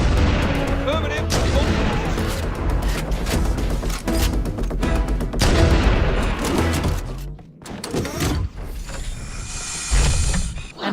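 Stationary gun turrets fire in Halo: Combat Evolved amid dense, loud bursts of gunfire, booms and mechanical clatter that sustain nearly throughout, briefly dropping before resuming, with voices talking beneath.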